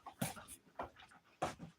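A dog pants and whimpers in short, soft bursts, three distinct breathy pulses close to the microphone in a quiet room, with faint whines between them.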